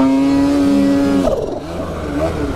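An off-road rig's engine revs hard on the throttle while stuck against a tree on a wooded trail, a steady high drone that suddenly drops into rough, sputtering bogging, loud and close.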